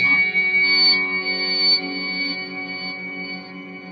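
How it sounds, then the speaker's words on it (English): A guitar pedalboard runs a pitch-shifted reverse delay into a hall reverb, giving sustained shimmering harmonic tones that swell and smear into a dense, echoing wash, steady and fairly loud throughout with no voices. "it's a pitch shifted reverse delay feeding a hall reverb and delay"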